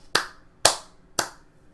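Three sharp hand claps, evenly spaced about half a second apart, crisp and close with nothing else around them.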